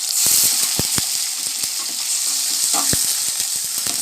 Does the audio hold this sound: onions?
yes